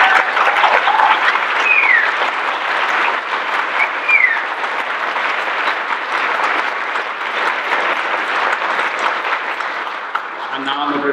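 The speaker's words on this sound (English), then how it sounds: "I'd like everyone to round of applause." A conference audience gives a sustained round of applause, a broad even wash of clapping that holds for several seconds and thins slightly toward the end.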